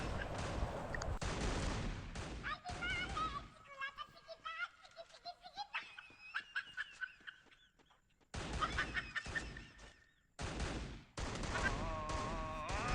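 Gunfire crackles in the Free Fire video game as players try for headshots, with bursts of rapid shots mixed with game effects and tones, and a voice talking over much of it.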